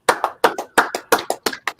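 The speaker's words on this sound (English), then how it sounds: "Clap it up for fans back in the arena." Hands clap loudly and close up in a quick uneven run of about a dozen sharp claps, often in pairs, celebrating fans returning to the arena, with no voices present.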